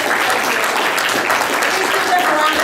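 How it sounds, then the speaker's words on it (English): A town hall audience gives a dense, steady round of applause for the student moderators, a crowd of hands clapping at close range with voices mixed in. "give them a round of applause"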